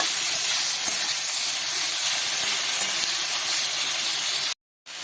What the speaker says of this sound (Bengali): অল্প আঁচে ভেজে নেব